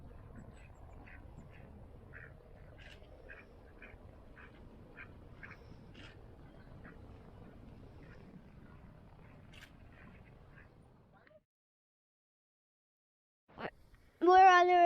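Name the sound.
ducks quacking in a forest park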